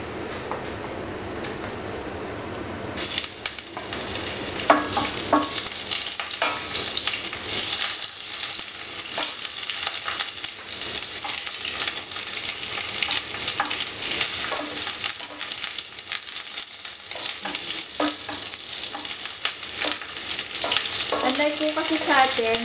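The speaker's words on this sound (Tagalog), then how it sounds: "Ngayon po na mainit na ang ating pan, igigisa ko na po yung onion, yung garlic, and yung ginger." Onion, garlic and ginger hitting a hot pan for tinolang manok, a sudden loud sizzle that keeps crackling steadily with frequent scraping and stirring clatter, close up and without talk.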